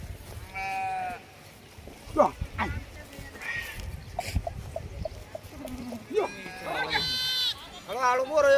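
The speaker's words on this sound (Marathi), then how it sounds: "मेंढ्या आहेत ना सर्व आता बाहेर निघालेले आहेत" Several sheep bleat repeatedly, some close and some farther off, with people talking in the background and occasional farmyard noise.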